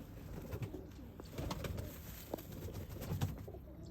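Pigeons of an old breed coo softly and continuously at close range, low murmuring calls repeating throughout with no talking.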